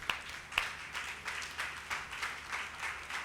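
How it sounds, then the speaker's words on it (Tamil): A church congregation claps together during a Tamil-language service, producing a steady, moderately loud patter of many hands with a few sharper claps standing out, no voices heard over it. "கைத்தட்டுங்க பார்க்கலாம்."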